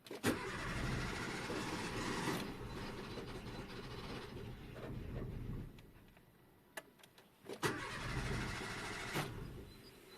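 Nissan Note E11 engine cranking without catching after its fuel pump fuse was pulled, a steady starter whirr that churns for several seconds, pauses, then cranks again, close and fairly loud, with no talk.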